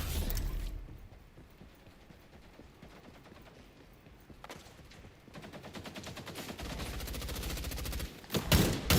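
Automatic gunfire in the shooter XDefiant, a fast rattle of shots that swells and fades across several seconds and ends in a louder closing burst, with no voices.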